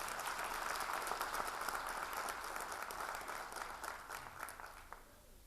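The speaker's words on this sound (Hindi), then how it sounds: "आपने ऐसी तालियां बजा दी" Sustained applause from a crowd at a Dastangoi storytelling performance, thick and even at first, then gradually thinning and fading toward the end as the clapping dies down.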